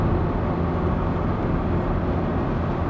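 Ferrari F40 with a manual gearbox pulling away after a shift into second gear, a steady, loud, continuous engine roar with dense low rumble sustained throughout, no speech over it.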